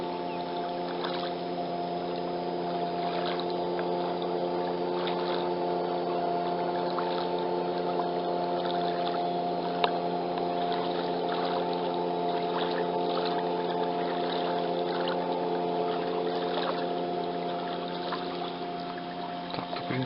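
An outboard motorboat drones steadily out on the water at a duck hunt, a sustained humming engine tone holding at moderate distance for the whole stretch, with no talk.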